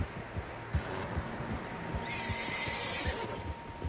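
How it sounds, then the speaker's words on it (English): Several horses whinny and snort in the Red Dead Redemption 2 video game, with a loud neigh rising midway over a steady, rhythmic clip-clop of hooves from a group moving along a trail. "Horses, quite a few of them."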